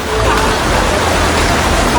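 Fast, swollen river in Tapanuli Tengah rushing after a flash flood, a loud dense continuous roar of water close by with a voice partly underneath.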